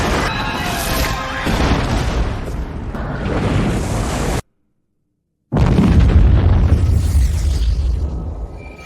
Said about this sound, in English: The red dwarf star exploded, almost obliterating the entire solar system.